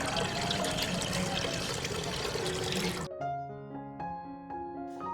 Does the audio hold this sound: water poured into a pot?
yes